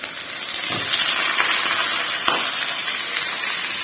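Minced meat (keema) fries with onions in a hot pan, giving a loud, continuous sizzling hiss with faint stirring scrapes.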